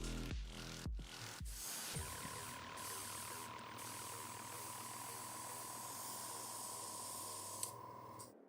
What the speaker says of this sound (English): we're airbrushing yellow now on these hazard stripes